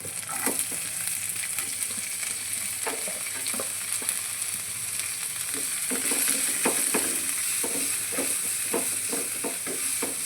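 Onion and green chilies frying in a pan, a steady close sizzle broken by repeated scraping stirs and soft knocks.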